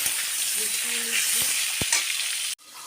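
Cumin seeds, two slit green chillies and potatoes frying in hot oil, a steady loud sizzle with a few stirring knocks, cutting off abruptly near the end.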